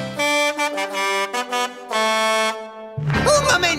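A cartoon monster-truck horn from Blaze and the Monster Machines honks in a series of loud, sustained musical blasts with short gaps, followed by a burst of busier engine and music sound.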